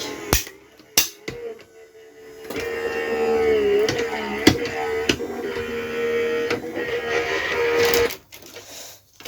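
Electric crafting machine running for papercraft, a sustained mechanical whirring hum with a wavering pitch, framed by sharp clicks and snaps before it starts and after it stops, close with no talk.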